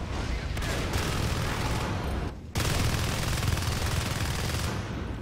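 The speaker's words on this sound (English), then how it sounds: "shotguns I hear going off" Shotguns fire in a video game battle between marines and aliens, heard as dense, continuous, loud gunfire that breaks off for a moment before resuming.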